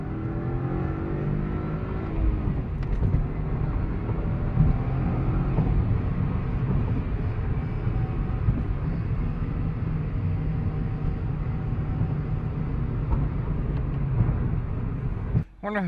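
A car engine hums steadily while rounding a corner and climbing a highway on-ramp on a snowy day, a continuous close drone with road noise and a brief thump near the end.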